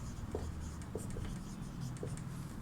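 A pen scratches steadily across paper as a class name is written on a Hindi lesson sheet, with short strokes and small taps close by over a constant room hum.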